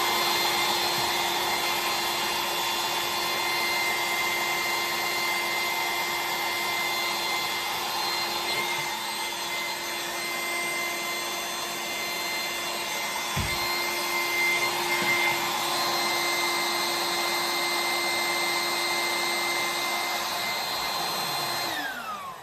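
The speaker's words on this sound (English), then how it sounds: "That means I could run that blower for 3 hours from this power" An electric blower runs steadily off a portable Oupes Mega 1 power station, a loud, continuous whine and rush with a constant tone, holding unbroken for the whole stretch.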